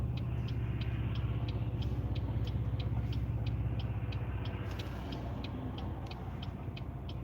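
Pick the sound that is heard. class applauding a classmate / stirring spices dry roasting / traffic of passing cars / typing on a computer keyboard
traffic of passing cars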